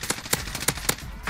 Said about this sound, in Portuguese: Dei muito tiro, Tony.